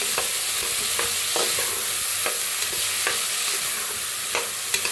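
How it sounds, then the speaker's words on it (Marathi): Soaked moth beans and lentils roast in a hot pan as a spoon stirs them, producing a continuous close sizzle broken by repeated scraping knocks with no talking. "मटकी बी भिजू घातली होती बघा, मसूर बी. त्याला बी भाजून घेऊया."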